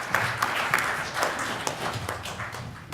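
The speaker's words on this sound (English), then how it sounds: "Let's give a round of applause to Danny." An audience at a technical talk applauds speaker Danny from Avalanche Technology, a continuous wash of many hands clapping at even loudness, with no voices over it.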